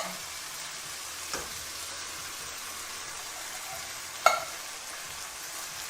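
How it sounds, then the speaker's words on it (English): Chicken pasta sizzling steadily in a pan, a low continuous frying hiss with a brief clatter near the start and a sharp clank around four seconds as canned tomatoes go in, no talking. "now we're going to add in our 2 cans of tomatoes"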